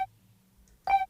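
A single short, unprocessed note sampled from the start of a track sounds: a brief, clear tone with a quick fade, heard alone after a tiny faint blip.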